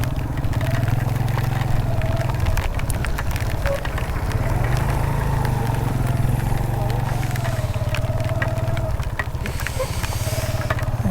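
A motorcycle engine rumbles steadily at low speed while the bike slips on wet mud in Khuzdar, Balochistan, a continuous nearby drone with no clear speech over it.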